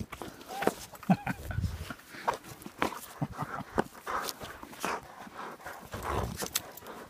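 A dog plays tug-of-war, with close scuffling, tugging thumps and shaking sounds in an uneven rhythm, while a person speaks short commands in between.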